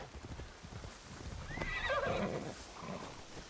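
A horse in the video game Assassin's Creed Shadows gives a single whinny midway, rising then falling, over soft hoof clops and ambient game noise, fairly quiet.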